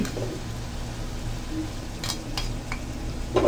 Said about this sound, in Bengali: কিছুক্ষণ নাড়তে থাকবো।